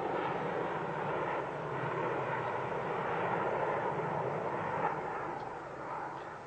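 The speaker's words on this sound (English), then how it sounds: "Now joining in partnership, the Lusty Buccaneer, in service with the Royal Navy since the early 60s" A Blackburn Buccaneer strike jet of the Royal Navy passes in a steady, broad roar of jet engine noise, loud and sustained before easing slightly at the end.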